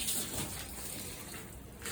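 Water drains from a garden hose at a horse arena, a faint steady rush and trickle over about two seconds.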